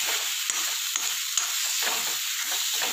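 Mutton varattiyathu, finished with coriander and curry leaves, roasts dry in bubbling oil, giving a continuous close sizzle with soft stirring scrapes and small crackling pops throughout.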